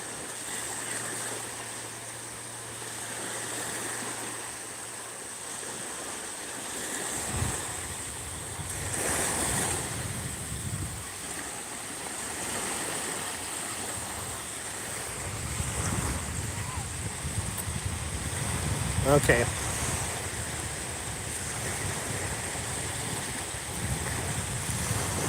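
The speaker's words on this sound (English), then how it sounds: "I can hear the ocean just fine." Ocean waves surge and wash in repeatedly with gusting wind buffeting the microphone, a steady broad roar that swells at intervals, while a voice speaks briefly.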